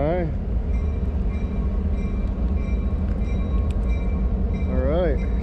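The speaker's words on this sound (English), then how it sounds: "Excuse the train going by." A train rumbles past close by in cold weather, a steady heavy roll with a brief squealing wail near the start and again near the end.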